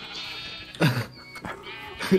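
Sheep in the Minecraft video game bleat in two short, close cries over soft game background sound.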